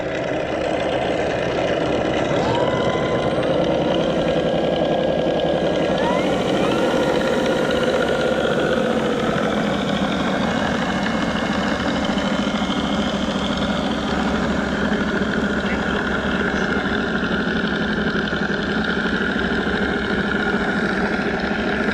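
E-Flite Carbon Z T-28 model airplane idling and taxiing, a steady buzzing drone with a rapid pulsing low rumble and a few faint pitch shifts, continuous and fairly close with no talking.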